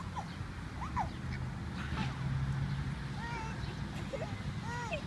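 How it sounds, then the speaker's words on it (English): Ducks quack on and off at a pond while being fed bread, short nasal calls scattered across the clip over steady outdoor background noise, with people talking now and then. "This is Isabel's first time feeding ducks."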